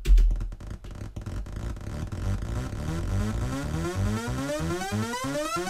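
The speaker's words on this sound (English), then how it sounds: "What you can do is automate the pitching of the arpeggio and with this pitch knob right here." Arpeggiated synth riser built in FL Studio with the 3x Osc synth, its stepped notes rising steadily in pitch through automation, dense and continuous throughout with no voices.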